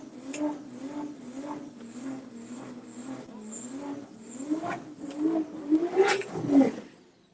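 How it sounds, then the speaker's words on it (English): A GTI race car with four-wheel drive doing a burnout: a steady, loud engine drone with rising revs, swelling into harder bursts and squealing tire noise near the end. "So he does the burnout, then he has to turn it off, reset the car"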